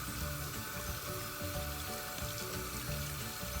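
Tap water streams steadily into a sink while a makeup brush is rinsed, a constant close hiss with faint splashing and no talk.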